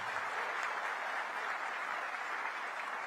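Steady audience applause fills a large gathering at a cooperative farmers' event in Anand, a dense continuous wash of clapping that holds at even loudness throughout.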